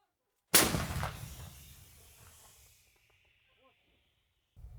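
A single booming shot from a 122 mm 2S1 self-propelled howitzer erupts suddenly and rolls away in a long, fading rumble, followed by faint distant noises and quiet.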